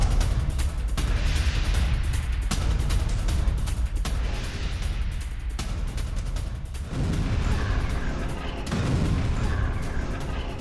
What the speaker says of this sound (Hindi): पूर्वी जमालिया में भीषण बमबारी